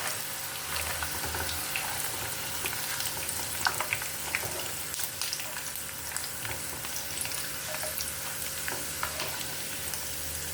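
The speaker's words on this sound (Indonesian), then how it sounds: "Goreng juga 3 siung bawang putih. Diaduk-aduk terus supaya matang merata." Garlic, peanuts and chilies frying in hot oil and stirred constantly, giving a steady close sizzle and crackle with occasional scraping and clinks from the spoon.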